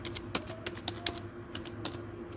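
Typing on a computer keyboard, with quick, uneven key clicks tapping out a short burst at close range in a quiet room.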